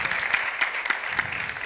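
Audience applause at a social services innovation event, a dense steady wash of many hands clapping with a few sharper claps standing out, moderately loud with no talk.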